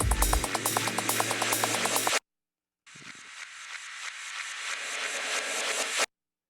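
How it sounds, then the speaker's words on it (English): Reversed effects from a 138 bpm techno track: a short rhythmic, noisy burst and then a long rising, swelling hiss that cuts off with a sharp, abrupt stop, heard alone. "And then reverse effects, which were super cool."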